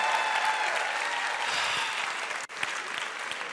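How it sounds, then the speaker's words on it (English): Applause from an audience at a weekend gathering in Sedona, a dense steady wash of many hands clapping that dips briefly near the end and then carries on. "Give yourselves a round of applause for coming out"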